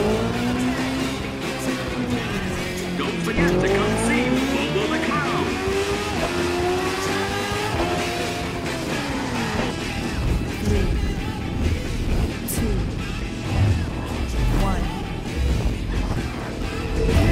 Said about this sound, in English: That's the sound of classic American muscle car engines